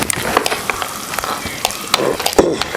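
Finely chopped garlic and ginger fry in hot oil for a Kottayam-style fish curry, a loud busy crackle and sizzle with quick stirring scrapes throughout.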